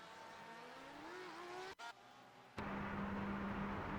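A Porsche GTE race car at Mid-Ohio coasts with its rear axle locked after a handbrake pull. A rising engine whine breaks off with a short dropout, then a loud, harsh, steady scraping roar takes over.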